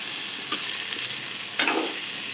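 Food stirred in a pan over a low flame gives a soft, steady sizzle with a couple of brief scraping strokes, close but quiet.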